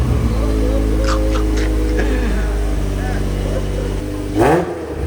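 An Acura NSX engine idles and revs after a cold start, a loud low drone with rising and falling rev sweeps and a sharp blip near the end, while voices talk over it.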